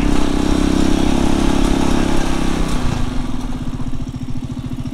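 A Halcyon 450 motorcycle engine labours while riding at over 10,000 feet in the Rocky Mountains, a loud close droning rumble that settles from a steady pull into a slower, pulsing idle-like throb.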